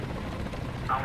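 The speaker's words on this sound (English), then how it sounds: "There is a helicopter." A helicopter in the War Thunder video game drones steadily at a distance, a low continuous rotor hum with no talk over it.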